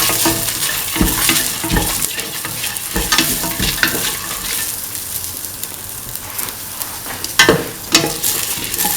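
Garlic and shallots sautéing in a pan for a vegetable coconut milk stew, a loud close sizzle with frequent rhythmic scrapes and clatters of a spoon stirring against the pan, no voices.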